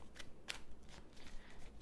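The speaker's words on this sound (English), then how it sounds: "let me give this a few more shuffles" Tarot cards being shuffled by hand, a run of quick crisp riffling snaps and soft papery flutters, close and fairly quiet with no voices.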